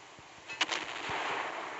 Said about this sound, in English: that was a good salvo